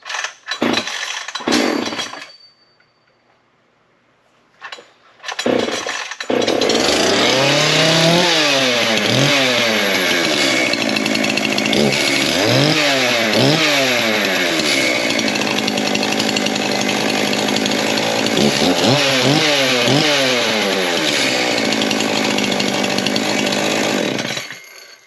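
A new Echo CS-4920 gas chainsaw, with spring anti-vibration and a push-button on/off switch, starts after brief pulls and then runs loud and close, revving up and down in repeated bursts with no talking.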